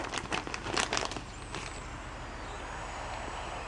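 Air rushes into a cut-open, compressed 12-inch ventilated memory foam mattress with a steady hissing, crinkling wash, preceded by a few sharp plastic rustles and snips near the start.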